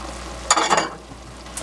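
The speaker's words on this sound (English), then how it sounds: "We're going to stir in our flour to where all the lumps are all gone and mixed in really good with the pork and the oil there" Flour stirred into frying pork and oil in a cast iron pan: a short scraping swirl of the spoon over a low steady sizzle, close and alone.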